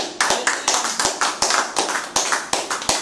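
Rhythmic clapping from a church congregation acclaiming Jesus, a steady beat of sharp, fairly close claps repeating about every third of a second with no talk.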